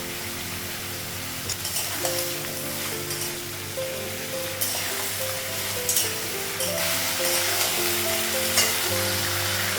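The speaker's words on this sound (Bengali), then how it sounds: "ধীরে ধীরে বেগুনটা লাগাবো, বেগুনটা কুচিটা লাগাবো" Chopped eggplant fries in hot oil in a pan, giving a continuous loud sizzle and crackle with a few stirring knocks and a faint tonal hum underneath.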